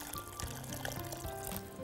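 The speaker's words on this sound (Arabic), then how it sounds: "وعايزين بقى نحط شوية مية" Water is poured into a pot of tomato sauce with chicken kofta balls, a soft continuous trickle and splash lasting a couple of seconds in a kitchen.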